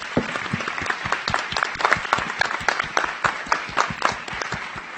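An audience at an architecture entrepreneurship event in Brazil applauds the panel speakers with lively, close clapping whose individual claps stand out in an uneven rhythm, sustained for the full stretch.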